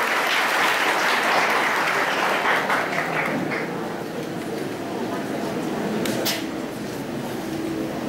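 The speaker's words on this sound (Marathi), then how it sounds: "टाळ्या वाजवून आपण त्याचे स्वागत करूया." An audience at a school Independence Day celebration claps to welcome a seventh-grade student speaker, a dense, sustained wash of applause that eases slightly toward the end.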